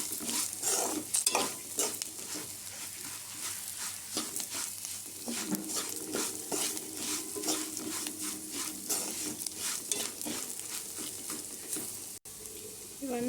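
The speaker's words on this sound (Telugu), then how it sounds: "ఇప్పుడు ఇందులో మనం కాస్త పసుపు, అలాగే కాస్త అల్లం వెల్లుల్లి పేస్ట్ వేసి వేయించుకోవాలి." Lentils fry with turmeric and ginger-garlic paste in a pan, a continuous close sizzle broken by repeated rhythmic scraping strokes of a spoon stirring throughout.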